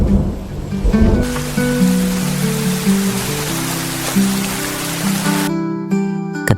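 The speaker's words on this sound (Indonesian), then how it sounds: "Tak lama kemudian, hujan turun." Steady rain pours down as a dense, even hiss, joined by low tonal music that drops out near the end.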